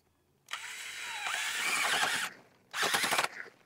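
A powered garden auger drilling into soil whines loudly and close in two bursts, a longer one of about two seconds and then a shorter one, its motor pitch straining and shifting against a rock, with no talking.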